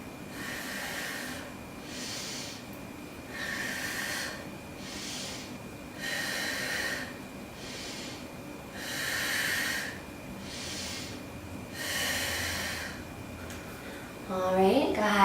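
Deep, steady breathing during a hip-opening yoga pose, with about eight slow, even inhale-exhale cycles at close range, followed by a brief voice at the very end.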